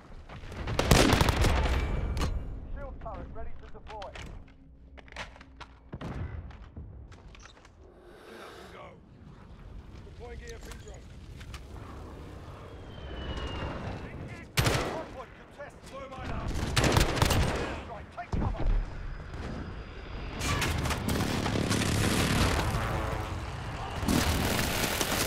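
Gunfire in a Call of Duty: Modern Warfare multiplayer match, loud rapid bursts and single shots breaking out repeatedly over a low battle rumble, with quieter stretches between volleys.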